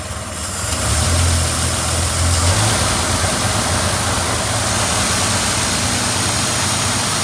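The engine of a 1953 Dodge B4B truck idles steadily up close, a dense, continuous rumble with a low throb that holds even throughout, with no talk.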